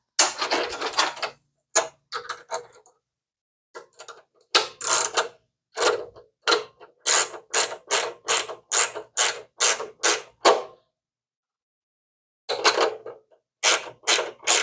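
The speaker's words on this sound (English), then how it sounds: "give me that wrench, and we'll tighten this side" Rapid repeated clicking of a ratcheting wrench tightening a part during final assembly of a bicycle, sounding in close bursts of evenly spaced clicks separated by short pauses, with no talking.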